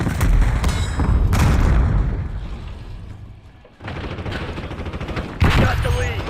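Video game firefight with a frag grenade, loud bursts of gunfire and booming blasts in heavy clusters, a brief lull, then more shots resuming close and loud, with shouted voices mixed in.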